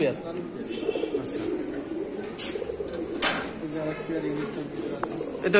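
Almond pigeons at a pigeon farm in Natore, low soft coos and occasional chirps heard beneath ongoing conversation.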